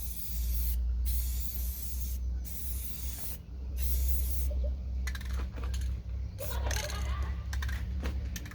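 Spray paint hissing onto a camper in a budget exterior paint job, bursts of spray broken by short pauses, close and fairly loud over steady low background noise.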